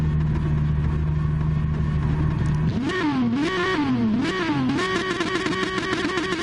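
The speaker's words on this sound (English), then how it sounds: "Revs are high on the car." A race car engine in a PS4 racing game idles on the start line, then revs up and down in repeated rising and falling surges before holding a high, loud drone, with no talk.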